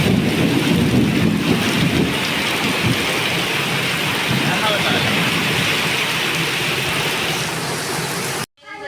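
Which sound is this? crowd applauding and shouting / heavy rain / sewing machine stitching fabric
heavy rain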